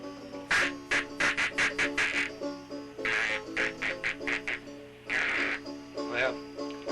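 A man imitates a duck's quack with his voice and hands, giving rapid nasal quacking bursts in quick runs with short pauses, loud and close.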